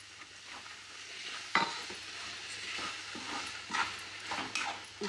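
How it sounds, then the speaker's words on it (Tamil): Prawns sizzle and fry in a pan for prawn thokku while a utensil stirs them, giving steady hiss with scraping and clinking spikes, close and moderately loud, with no talking. "இந்த இறா வந்து இதில் போட்டுக்கலாம்"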